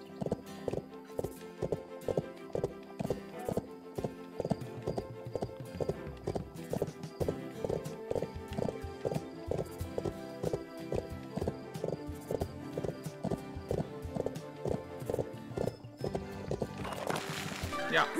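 Rhythmic clip-clop of a horse's hooves in the Bibi & Tina riding game, a fast, steady galloping beat played continuously and close, with game sounds layered over it and a brief whinny-like burst near the end.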